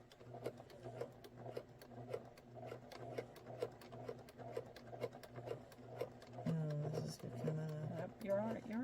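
Sewing machine stitching fabric runs in a steady rapid rhythmic chatter at moderate volume, while people talk over it near the end.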